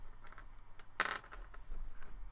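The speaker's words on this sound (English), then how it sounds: "Can you hear the dice roll?" A brief close clatter of small dice tumbling on a hard surface, one short rattling burst amid quiet room tone with faint handling noise around it.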